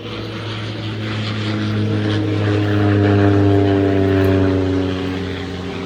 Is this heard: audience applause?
no